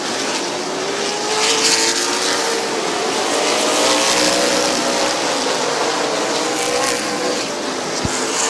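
Race cars lapping Midvale Speedway, a loud continuous roar of engines with rising and falling pitches as cars pass, dense and sustained throughout.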